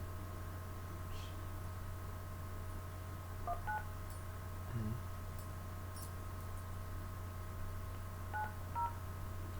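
A telephone is dialed with a handful of faint touch-tone beeps in short pairs, scattered over a steady electrical hum with no talking.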